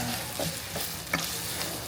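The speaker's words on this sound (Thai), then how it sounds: "เครื่องแกงจริงมันต้องผัดกับน้ำมัน" Curry paste stir-fries in hot oil inside a rice cooker pot, a steady close sizzle with occasional scrapes and clinks of the stirring utensil.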